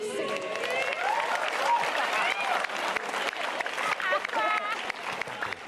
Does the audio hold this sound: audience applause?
yes